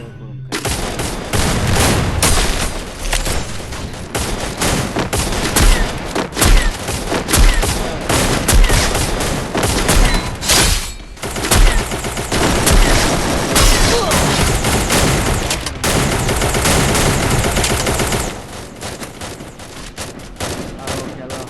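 Dense, continuous gunfire fills a Free Fire battle royale match, with rapid bursts and booming shots running almost without pause, loud and close.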